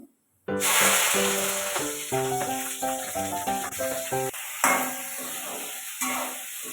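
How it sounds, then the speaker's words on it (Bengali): Onions fry in a pan with whole spices such as cinnamon, cloves and cardamom for a restaurant-style paneer butter masala, a steady close sizzle running beneath louder background music. "এই পেঁয়াজগুলো আমি ভেজে নেব।"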